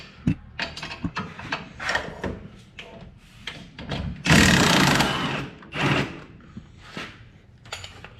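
Ratcheting wrench clicks and metal scraping while loosening outer radius rod bolts on a Polaris off-road vehicle, close and intermittent, with a longer burst of ratcheting midway.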